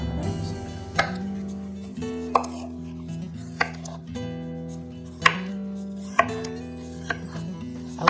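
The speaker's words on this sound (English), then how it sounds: "Same basic principles on cutting the onion." An onion chopped with a knife on a cutting board, roughly eight firm, evenly spaced blade strikes about a second apart, close and clear over a steady low background hum.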